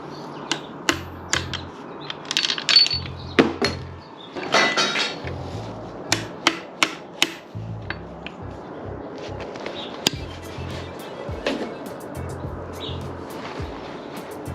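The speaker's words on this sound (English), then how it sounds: "I gotta try to hammer on this" Sharp metallic hammer strikes on a 12 mm socket during a bottom-end teardown of a Toyota 3SGE Beams engine on a Harbor Freight engine stand, landing in irregular bursts and close by, with quieter clinks between.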